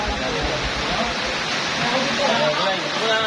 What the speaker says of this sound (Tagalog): Malakas ang ulan. Baka bumapa sa lugar nyo.